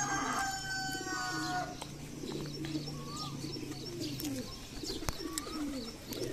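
Pigeons in a loft coo and call in a low, continuous murmur, with scattered bird chirps and a brief whistling tone early on, all close and steady with no talking.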